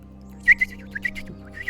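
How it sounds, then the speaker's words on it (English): Several birds chirping in a fantasy tabletop game scene, short bright tweets spaced irregularly over a quiet low hum, fairly close and clear. "Do the birds sound like birds, or do they sound like people whistling like birds? They sound like birds."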